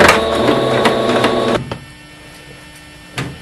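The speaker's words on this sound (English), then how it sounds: "then I'm just going to sew with a straight stitch using about a 1/4 inch seam allowance" Sewing machine straight-stitching down the casing of a pocket diaper with about a 1/4 inch seam allowance, running loud and steady up close for a second and a half, then stopping abruptly, with a brief mechanical clunk afterward.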